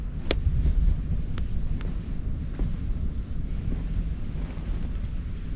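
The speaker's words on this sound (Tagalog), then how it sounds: "nagtago tayo dito kasi medyo mahangin" Gusty wind buffets the microphone outdoors beside a cooking fire, a steady low rumble throughout with a few faint clicks and no voices.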